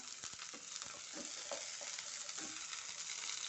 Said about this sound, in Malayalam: ഇത് നന്നായിട്ട് വഴറ്റിയെടുക്കാം നന്നായി ഇളക്കുക